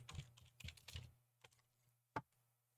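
Keys on a computer keyboard clatter in a few quick clusters of close clicks, then a couple of isolated taps and one sharper final keystroke, over a faint low hum.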